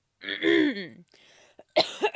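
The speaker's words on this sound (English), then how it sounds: "Why are you coughing?" A single throaty cough with a rough, voiced rasp, followed by quieter breathy sounds and a couple of short sharp bursts near the end.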